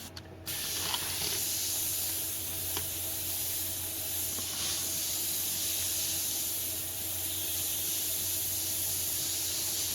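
A Badger Xtreme Patriot 105 airbrush gives a steady hiss of fine spray that runs continuously after a brief start, close and even, with faint mechanical clicks underneath.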